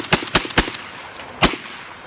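A gas-operated shotgun fired one-handed, loud sharp blasts in a quick run of four to five shots, then a pause and one more report, with no voices.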